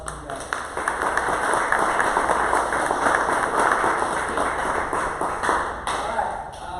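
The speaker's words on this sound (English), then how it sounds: "So another round of applause for you guys." A round of applause from a group after a tournament, a dense clatter of clapping with sharp individual claps standing out, loud and close, with voices mixed in beneath it.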